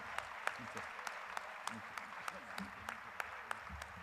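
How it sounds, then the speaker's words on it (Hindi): An audience claps continuously in a hall, a soft steady patter of applause with a few sharper individual claps standing out, while a voice speaks faintly over it. "आपकी तालियां अनवरत जारी रहना चाहिए"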